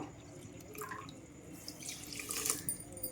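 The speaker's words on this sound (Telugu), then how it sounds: "ఇదే కప్పుతో 1 కప్పు వాటర్ అయితే పోసుకుందాము." A cup of water poured onto sugar in a pan while making jalebi syrup, a soft close trickle and splash with small drips, brief and alone with no talking.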